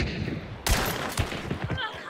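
Gunfire in the video game Hunt: Showdown, a few loud sharp shots and echoing reports in quick succession over ambient game noise, with a voice briefly heard.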